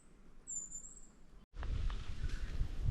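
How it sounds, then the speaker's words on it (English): A cicadabird in wet sclerophyll forest gives one thin, high, insect-like note, brief and fairly faint, followed by louder close rustling and handling noise. "That's a cicada bird."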